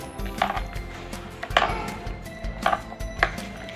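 A spoon clatters against a metal bowl while chana dal pakora batter is mixed with onion, turmeric, salt and spices, giving several sharp scraping knocks at uneven intervals, fairly close and with no talking.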